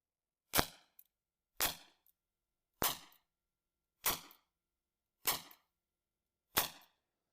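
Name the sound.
6mm Flobert rifle firing a metallic cartridge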